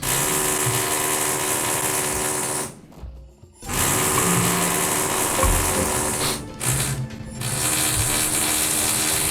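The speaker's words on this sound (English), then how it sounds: "Jamie does this Sunday morning stream and someone's drilling" A loud, steady mechanical whirring runs continuously, pausing twice briefly before starting up again, close and unbroken by talk.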